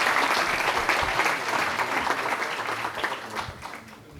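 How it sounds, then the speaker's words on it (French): After a presentation at a round-table on water, the audience breaks into sustained applause, many hands clapping densely and evenly before the sound eases slightly toward the end. "Vous pouvez les applaudir."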